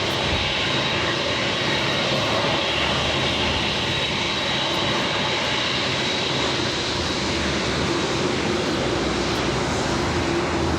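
A passenger airplane landing on runway 25 Left at Los Angeles International Airport gives a steady, loud broadband engine roar that holds near-constant for the whole stretch, with no talk.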